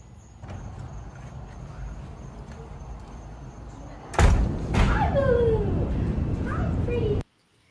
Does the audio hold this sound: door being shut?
yes